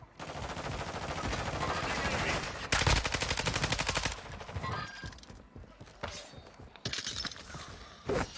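An enemy soldier fires on the player in a shooter video game: loud rapid bursts of automatic gunfire and cracks, with breaking glass, then sparser single shots and quieter gaps.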